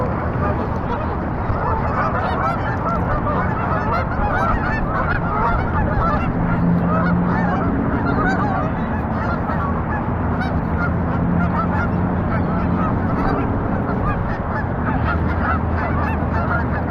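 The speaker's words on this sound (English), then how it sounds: "Ducks, ducks, ducks, ducks, ducks, ducks, ducks, ducks," Ducks and other waterfowl at Flushing Meadows Corona Park in New York City make a dense, loud, continuous chorus of honks and quacks, close by and with many birds calling at once.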